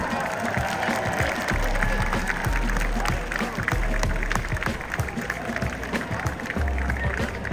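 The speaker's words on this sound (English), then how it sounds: "let's give them a big round of applause again" Audience applause at a VEX Worlds 2023 robotics competition award ceremony, a steady wash of clapping with crowd noise and some voices mixed in, loud and sustained throughout.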